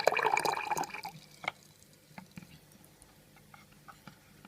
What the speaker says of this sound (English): you have a fine trickle of water coming through